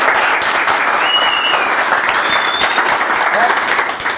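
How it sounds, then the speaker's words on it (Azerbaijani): Sustained audience applause fills a talk show studio, a dense, steady wash of many hands clapping at even loudness before easing slightly at the very end. "bir dənə alqışlayaq"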